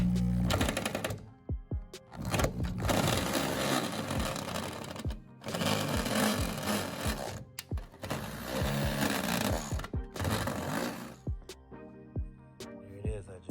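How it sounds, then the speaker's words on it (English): A power drill bores a hole through the rear tailgate of a 2010 Kia Sedona, whirring loudly in several bursts of a couple of seconds each, separated by brief pauses and clicks, close to the microphone. "I just drilled the hole"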